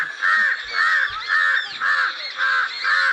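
Crows caw loudly and close, six evenly spaced harsh calls in a steady rhythm with no other sound between them.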